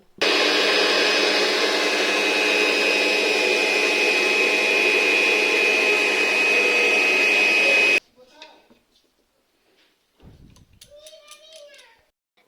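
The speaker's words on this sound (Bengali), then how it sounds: "মিক্সচার মেশিনটা বের করে নিয়ে একটু মুছে নিয়ে চালের গুঁড়ি করতে বসে গেলাম" A mixer grinder machine grinds rice into flour with a loud, steady whine for about eight seconds and then stops, after which a few faint household sounds and a voice follow.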